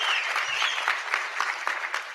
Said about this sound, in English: So how many people miss Lisa and Gary? Round of applause.